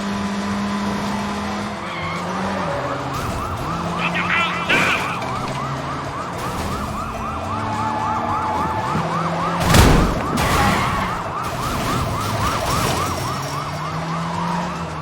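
Police sirens wail continuously in a Sleeping Dogs car chase, cycling up and down over engine roar, screeching tires and a loud crash near the middle. Faint voices come and go beneath the chase.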